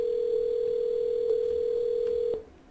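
A telephone line gives a single steady, continuous tone that holds clearly for over two seconds, then cuts off abruptly, with faint clicks near the end and no speech.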